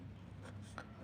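A pen scratches across paper or a board in two or three quick strokes while a math problem is worked out, faint and close, with a low steady hum beneath.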